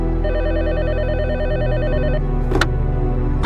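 A telephone rings with a steady warbling electronic bell tone for a couple of seconds, loud and close, then stops abruptly as if picked up, followed by a brief clatter.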